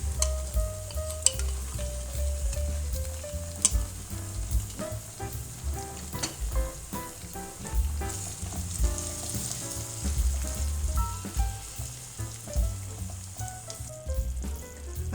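Egg gravy masala with tomato paste fries in a pan, giving a steady, close sizzle broken by frequent clinks and scrapes of stirring, with no voices.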